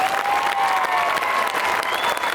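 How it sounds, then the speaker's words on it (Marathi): Loud, dense applause from an audience at a political gathering, steady and continuous throughout with a faint crowd murmur beneath. "हात वर करून एकदा खरंच जोरदार टाळ्या नेतृत्वासाठी"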